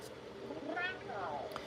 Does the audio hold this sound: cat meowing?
yes